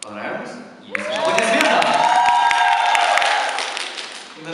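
Sustained applause from an audience, dense clapping rising after a quieter start and holding steady before tapering slightly at the end.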